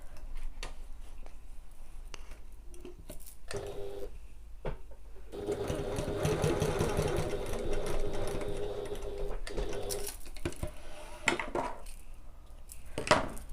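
A domestic sewing machine stitches pocket pieces, with scattered handling clicks and taps first, then a sustained close run of rapid stitching, followed by more clicks and shuffling.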